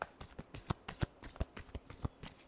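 Tarot cards are shuffled close up in a series of sharp riffling bursts and slaps, about a dozen quick strokes over a couple of seconds with short gaps between them, and no voice.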